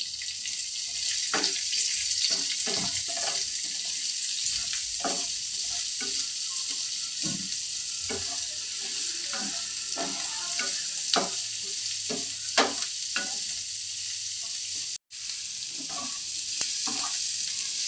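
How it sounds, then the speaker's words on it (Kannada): Onions frying in oil in a pan for palak paneer, a soft steady sizzle with scattered stirring clatters and scrapes over about eighteen seconds, one brief dropout near the end, no talking. "ಇವಾಗ ಈರುಳ್ಳಿ ಹಾಕ್ತಾ ಇದ್ದೀನಿ ಚೆನ್ನಾಗಿ ಫ್ರೈ ಆಗಬೇಕು ಈರುಳ್ಳಿ"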